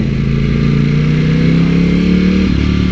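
An Italian superbike's engine revs hard on a downshift, a loud close drone whose pitch climbs steadily before a quick blip and shift near the end.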